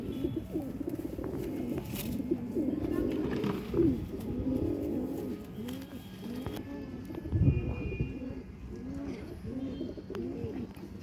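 Pigeons coo over and over, a soft rolling burble layered from several birds close by, with a few brief chirps mixed in and a faint voice now and then.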